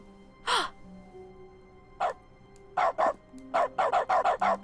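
A dog barks in The Stanley Parable video game's dog mode, a single bark then a series of quick, evenly spaced barks speeding up toward the end, faint and alone.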